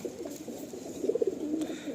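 Loft pigeon cooing softly at close range, a few low throaty coos rising and falling over steady background hiss, with no talk.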